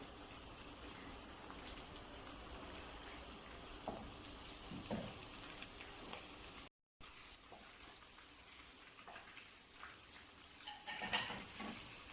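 Whiting fillets frying in oil in a pan, a quiet steady sizzle and crackle with a few soft pops and utensil touches, a brief gap midway, no voices.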